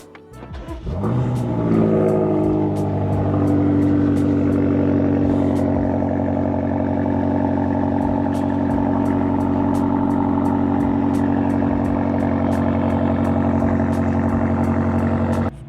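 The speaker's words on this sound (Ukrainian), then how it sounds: "зробимо знову холодний запуск" BMW M8 cold start: the engine fires and revs hard, then settles into a steady, loud, even idle with a rich low rumble that holds for over ten seconds, close by with no talk.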